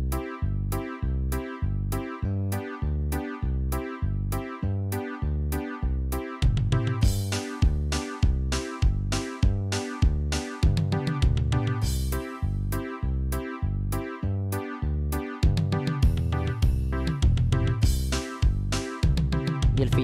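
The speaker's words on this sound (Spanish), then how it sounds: "vamos con el ritmo 2, que suena así." Yamaha PSR-E473 keyboard playing its second built-in rhythm pattern: a steady, loud drum groove with punchy kicks and bright cymbal hits under bass and chord accompaniment, with fills adding busier bursts, continuous with no talking.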